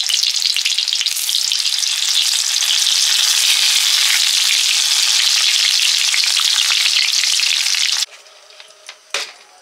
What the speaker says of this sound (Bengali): এবারে সেদ্ধ করা গোটা গোটা আলুটা ভেজে নিচ্ছি।